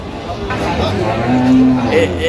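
Cattle at a busy livestock market trading in large cows, with a low moo rising briefly amid the crowd's chatter and nearby voices talking.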